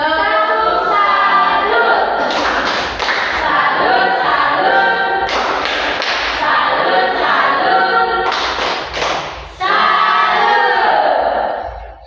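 A group claps in rhythm and chants together, with cheering and shouts rising in loud bursts throughout, fairly close.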